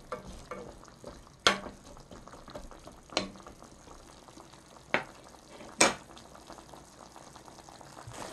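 Lotus root simmering and reducing in liquid in a pot, a soft bubbling sizzle broken by several sharp clatters as the pieces are turned with a utensil.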